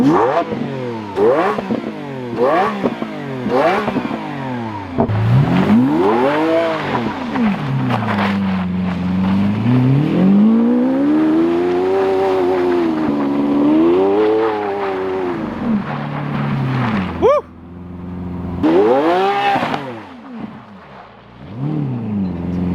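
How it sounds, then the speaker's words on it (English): A Lamborghini Aventador engine revs hard several times in quick bursts, then holds long rising and falling revs, loud and close, with no talking. "Couple revs for the viewers."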